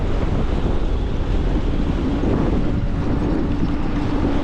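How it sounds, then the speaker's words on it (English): Strong wind buffets a GoPro fitted with a wind cover outdoors, making a loud, continuous rumbling roar with gusty fluctuations and no speech. "It is super windy. I don't know if you can hear it."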